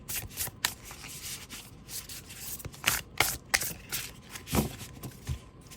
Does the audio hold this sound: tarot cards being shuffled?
yes